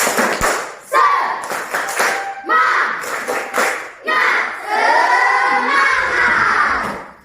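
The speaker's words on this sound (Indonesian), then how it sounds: "Tepuk semangat" A group performs the tepuk semangat clapping chant in short rhythmic bursts, loud and close, with voices shouting and chanting along between the claps.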